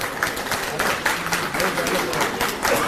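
An audience at a shopping festival event in Chandni Chowk, Delhi, breaks into sustained applause, a dense, even patter of many hands clapping from start to finish.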